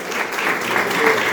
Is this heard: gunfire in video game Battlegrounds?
no